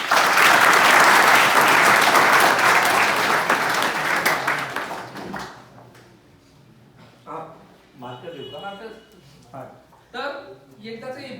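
Loud, dense audience applause fills a comedy motivational talk in Ahirani Khandeshi style for about five seconds, then fades as a voice takes over and speaks in short bursts.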